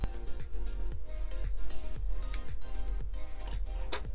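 Scissors trimming the ends of natural curly hair at home: a steady series of crisp metallic snips, roughly two per second, close and quiet, with no talking over them.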